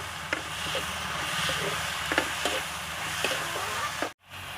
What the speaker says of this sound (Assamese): এতিয়া সকলোখিনি মই প্ৰায় 3 মিনিটমান ভাজিম।